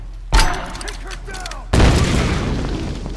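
Two heavy, booming gunshots ring out in the Tomb Raider video game, each followed by a long roaring tail, with a voice speaking briefly between the blasts.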